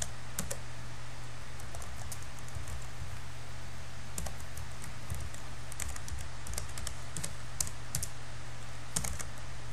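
Fingers type C# array code on a computer keyboard, a close, steady run of light key clicks with a few sharper taps over a low background hum, no speech.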